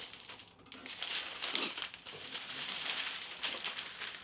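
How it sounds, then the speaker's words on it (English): Decoupage paper pressed and scored by a fingertip against a window pane, faint close crinkling and soft rubbing, continuous and quiet. "by putting it down and kind of using my finger to score, I can tell where I need to trim later"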